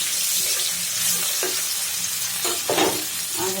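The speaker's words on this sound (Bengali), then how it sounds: "এখানে আমি কড়াইতে পেঁয়াজ কুচি দিয়ে দিয়েছি, ওটাতে সাথে রসুন কুচিটাও দিয়ে দিচ্ছি।" Chopped onion and garlic sizzle in a hot oil-filled karahi, a loud close hiss with scraping stirs and spoon knocks breaking through at intervals.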